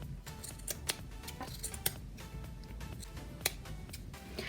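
Scissors snip around the edges of a yarn pom-pom in a run of small, crisp, irregular clicks, close by and fairly quiet, with no talking.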